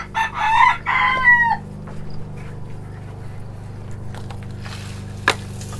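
Chickens cluck and call nearby, with a rooster-like crow near the start, over a steady low hum and faint scattered background noise.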